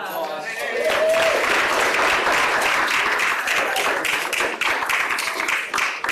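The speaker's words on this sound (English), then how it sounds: "Could we give Rebecca another round of applause?" An audience at an Earth Week keynote talk breaks into applause, dense clapping swelling quickly and holding steady for several seconds, close and loud, with a voice briefly heard at the start.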